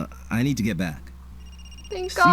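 A mobile phone rings in Another Code: Recollection, a thin electronic chime beginning after a spoken line and sitting beneath further speech, clear and close.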